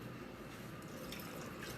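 Water pours through a funnel into a bottle while homemade laundry soap is mixed, a steady trickling, gurgling flow that stays even and close throughout.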